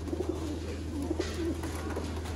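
Soft, quick coos from a loft of fancy pigeons sound several times over a low steady hum, fairly faint and without voices.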